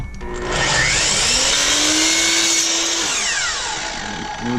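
A miter saw bites through flooring T molding at a 22.5-degree angle, the motor whining up loud and steady for about three seconds of cutting before spinning down alone.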